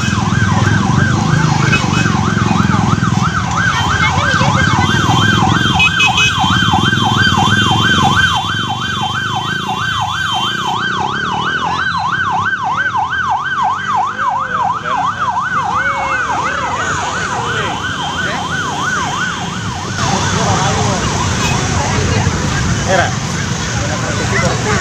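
A loud ambulance siren wails in a fast, repeating up-and-down pattern, close by, with traffic and crowd noise underneath, at a bus crash site by a river in Jeketro village, Central Java.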